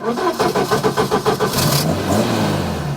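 A car engine cranks with a quick run of rhythmic starter pulses, then catches and settles into a loud, close, rising rev that hums on steadily.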